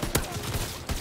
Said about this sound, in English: shotgun bang